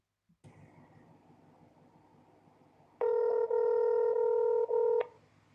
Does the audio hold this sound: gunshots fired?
no